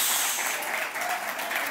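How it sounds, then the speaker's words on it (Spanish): A church congregation claps in a steady, dense burst of applause, fairly loud and even throughout, with no voices rising above it. "Alguien denle un aplauso al Señor"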